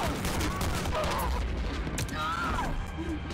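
Video game gunfire rattles in a dense, steady wash throughout, with sustained bursts and shots that blend together and never let up, and faint voices slip in under the noise.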